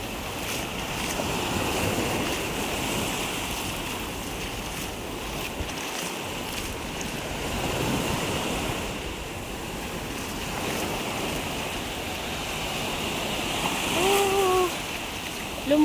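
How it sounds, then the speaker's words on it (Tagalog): Strong ocean waves break on a sandy beach in a steady, rolling surf roar that washes in and out without pause, with wind in the background. "Malakas alon."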